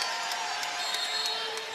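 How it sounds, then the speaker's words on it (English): A WNBA arena crowd in Phoenix Mercury vs Minnesota Lynx keeps up a steady, fairly loud wash of applause and cheering, with faint sneaker squeaks and thumps running through it. "The crowd applauding the intensity."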